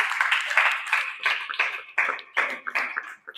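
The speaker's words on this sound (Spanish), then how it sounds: "Dele un aplauso al Señor." Hands clapping in a church congregation praising the Lord, a rhythmic burst of claps with faint voices mixed in, moderately near and steady for a few seconds.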